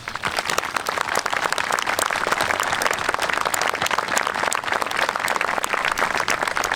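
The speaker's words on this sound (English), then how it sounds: "We do owe you all a nice round of applause" An audience at a Memorial Day veterans' ceremony at Restlawn Memorial Park gives a round of applause, with loud, sustained clapping from many hands, sharp individual claps standing out throughout.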